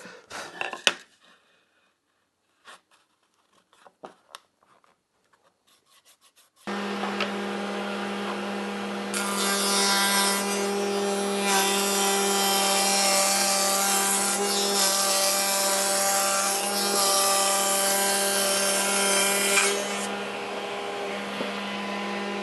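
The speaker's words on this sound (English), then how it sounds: "So I'm going to do a test cut now on another piece that I've got." After a few quiet knocks, a power saw starts and runs loudly and steadily, its hum joined by a harsher rasping as it cuts through wood.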